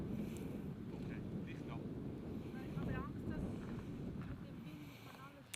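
Strong wind gusts buffet the microphone at a volcano overlook in Hawai'i, a continuous low roaring rumble with faint voices and light clatter underneath.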